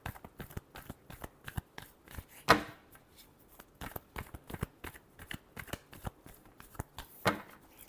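A deck of tarot cards being shuffled close up, a brisk run of sharp card riffles and snaps in an irregular rhythm with a louder flutter partway through and no talking.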